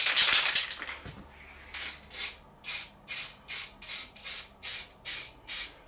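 Pink lacquer brushed onto wood, heard as a quiet close-up scratchy stroke followed by a regular series of about eight rhythmic brush swipes.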